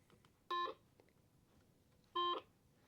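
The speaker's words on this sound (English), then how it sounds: "it beeped to say the message has been received" Quansheng UV-K5 handheld radios each give a short electronic beep on receiving a text message, two brief bright tones about a second and a half apart in an otherwise quiet room.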